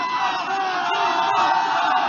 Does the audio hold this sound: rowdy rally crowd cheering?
yes